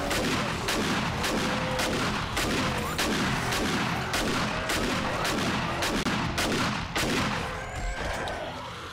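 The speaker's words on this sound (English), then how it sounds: "Maximum damage with our shotgun" Rapid shotgun blasts against a zombie horde in 7 Days to Die, loud close repeated shots in an uneven rhythm, one after another almost without pause.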